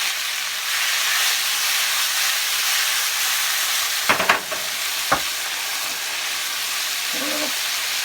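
Chicken, Italian sausage and mushrooms frying in a pan, a steady broadband sizzle with a few sharp scraping clatters of stirring in the middle and near the end, with no voices.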